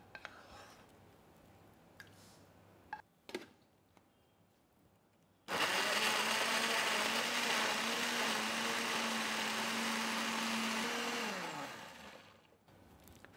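A blender whirs loudly and steadily for about seven seconds while puréeing cauliflower soup, then winds down. Faint clinks and handling noises come before it starts.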